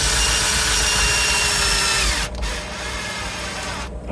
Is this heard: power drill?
yes